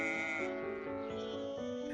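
A single goat bleat from an animated children's story, a wavering, tonal cry lasting under two seconds, fairly clear and alone with no talking over it.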